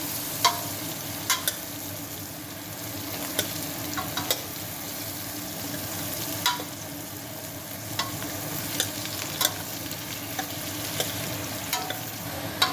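Sliced ridge gourd fries in a hot pan under steady stirring, with a continuous close sizzle and occasional sharp scrapes and taps of the spoon against the pan.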